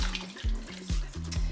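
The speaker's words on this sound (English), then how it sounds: "We're gonna go ahead and add the rest of this box of beef broth." Beef broth pours from a 32-ounce carton into a cooking pot for braised brisket, a steady close liquid splashing and gurgling with small glugs as the stream shifts, no voices.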